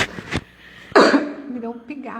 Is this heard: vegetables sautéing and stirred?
no